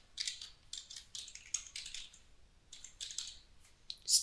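Quick bursts of keystrokes on a computer keyboard while an email address is entered, light clicky taps in short runs separated by brief pauses, close and quiet.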